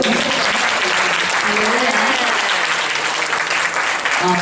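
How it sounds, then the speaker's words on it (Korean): A church congregation claps in praise at a testimony gathering, steady dense applause that stays loud and close for the whole stretch, with a voice faintly audible underneath. "하나님께 한번 영광의 박수"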